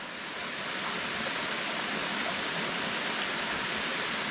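Forest waterfall pouring steadily, a dense continuous rush of falling water close by, loud and unbroken with no voices.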